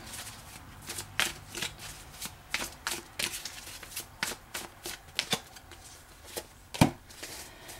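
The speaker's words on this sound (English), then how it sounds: "So, I just want to pull some cards here, in this deck." A deck of tarot cards is shuffled by hand in a quiet room, making a steady run of close, crisp riffling and slapping card sounds with one sharper snap near the end, and no voices.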